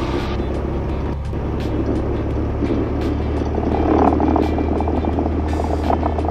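A Cessna Turbo 182RG runs at takeoff power, a steady, heavy engine and propeller drone heard from inside the cabin, constant and fairly loud with faint clicks and no talk.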